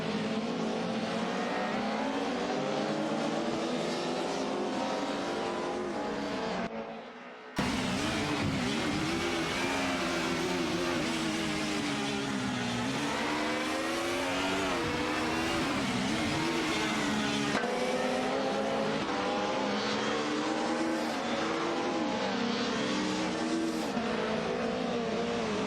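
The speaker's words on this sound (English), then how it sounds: "ready to watch some exciting AI race cars with us?" AI-driven race cars in a racing video game roar steadily, their engines rising and falling in pitch as they rev and shift. A brief dropout breaks the sound early, then the loud, continuous engine drone resumes.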